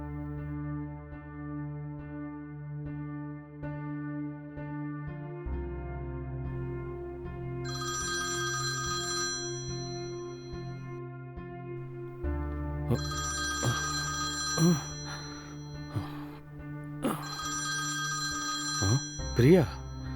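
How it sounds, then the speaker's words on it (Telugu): A telephone rings in a Telugu short-film scene. Three bursts of electronic ringing sound over a steady low musical background, each lasting a couple of seconds and moderately loud. "నేను ఒకసారి ఆయనకి ఫోన్ చేసి చెప్తాను"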